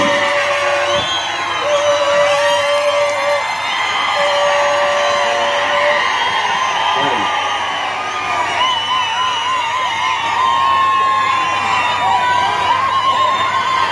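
A large crowd at a political rally for MP Omraje Nimbalkar in Paranda cheers, whoops and yells loudly and continuously, with whistles and shouts standing out above the steady roar.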